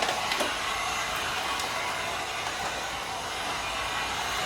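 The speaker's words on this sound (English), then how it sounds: "so what I'm actually doing is I'm going to grab the heat gun." Heat gun blowing hot air onto fog light tint film for a 2016-2017 Ford Explorer, a steady, loud, hissing airflow roar that runs without a break throughout.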